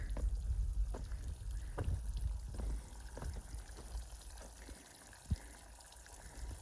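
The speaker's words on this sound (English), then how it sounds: "Water just coming down off the mountain." Water runs down off a mountainside along the Appalachian Trail, giving a faint, steady trickle and light splashing beside the trail, with one sharp knock near the end.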